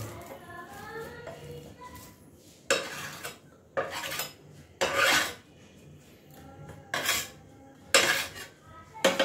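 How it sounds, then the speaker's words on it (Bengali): A metal spatula mashes potatoes in a pan for a chutney, giving repeated short scraping and clattering strokes at irregular intervals, close by, with a faint voice briefly at the start. "সেগুলো একটু খুন্তি দিয়ে ম্যাশ করে নিলাম"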